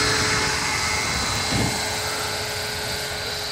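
Roban HH-60 Jayhawk 600-size RC helicopter with a 600-size power system on a single 6S battery flies continuously with a loud, steady electric whine and rotor hum, close by, with no talking.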